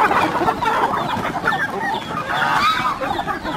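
Chickens cluck loudly and continuously at feeding time on a farm, with wild curassows feeding among them, a dense, busy flock chatter close by.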